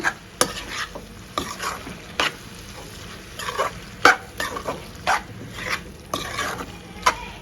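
Mutton boti (tripe) fry being stirred with masala in a pan, with a spoon scraping the metal in irregular strokes over a steady low sizzle, close by and with no voices.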